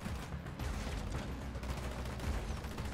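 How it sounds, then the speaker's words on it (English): Heavy, continuous gunfire from a firefight in the Ghost Recon Wildlands video game, rapid overlapping shots forming a dense, loud barrage throughout with no pauses. "I'm opening fire"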